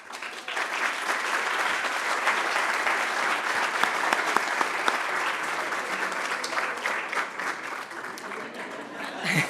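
Audience applause at a Diario Financiero anniversary event: a dense, steady wash of many hands clapping that holds evenly for nearly ten seconds and swells slightly at the end.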